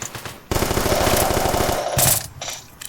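Rapid automatic gunfire in a bank heist video game, a burst of close, loud repeated shots fired through a window, running steadily for about a second and a half before breaking off.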